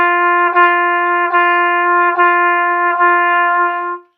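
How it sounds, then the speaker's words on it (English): Trumpet holding one steady pitch with legato tonguing, five smoothly connected notes separated only by soft, gentle articulations, clear and close with no talking. "So legato tonguing would be like this."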